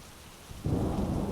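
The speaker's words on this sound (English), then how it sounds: "It has been pouring outside for days on end." Heavy rain pouring down in a thunderstorm, starting as a quieter hiss and then swelling abruptly into a loud, dense, continuous roar with deep low rumbling underneath, close and with no voices.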